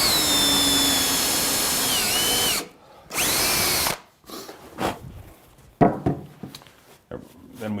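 A power drill drives screws into a plywood tool chest in two loud, steady whirring bursts, then gives way to quieter clatter and handling noises.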